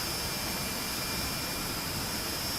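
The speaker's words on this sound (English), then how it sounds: "You'd hear those RB211s whining" Steady whine of Rolls-Royce RB211 jet engines in a FlightFactor 757-300 flight simulator, a constant broadband roar with a thin high-pitched tone riding on top, unchanging and uninterrupted.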